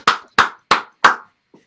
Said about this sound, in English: let's clap and cheer and make some actual atmosphere